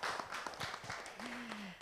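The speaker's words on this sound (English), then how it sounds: "Please give applause for all of us" An audience at an ambassadorial lecture event applauds, but the clapping is faint and scattered. Distinct individual claps come from a distance against a quiet background, with a brief tonal hum near the end.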